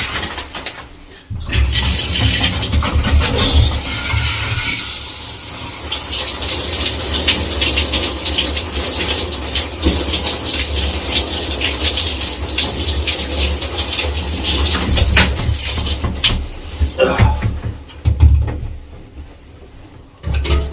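Running water rinses a freshly shaved head, a loud steady rushing spray that fills nearly the whole stretch, briefly cutting off at the start and easing near the end.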